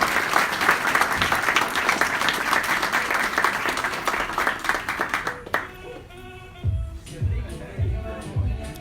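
A crowd applauds Chamber of Commerce representatives at an awards event for the mayor: a dense, steady clapping that fades partway through, after which a voice speaks over scattered lingering claps.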